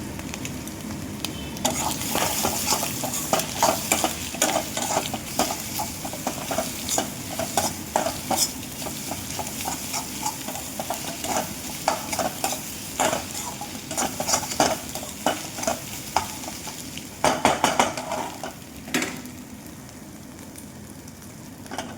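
Maggi noodles with Maggi masala sizzle and fry steadily in a pan while a utensil scrapes and stirs with frequent clinks, close and continuous throughout.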